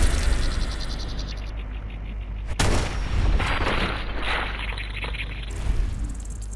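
Bursts of gunfire in Fallout 4, sharp close shots and impacts with a loud crack near the middle, over a steady rumbling game ambience.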